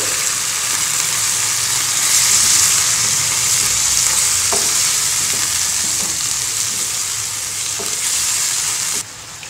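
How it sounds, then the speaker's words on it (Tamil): Tomatoes and onions sauté in a pan for a South Indian thakkali thokku, with a loud, steady, close sizzle running throughout and a few light stirring clicks. "தக்காளி வதங்குற வரைக்கும் கிளறி விடலாம்"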